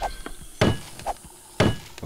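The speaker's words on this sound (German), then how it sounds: "Ich probier's mal kurz mit dem Hammer." Hammer strikes a wooden crate in the video game 7 Days To Die, landing two loud, sharp woody thwacks about a second apart, with fainter knocks between them.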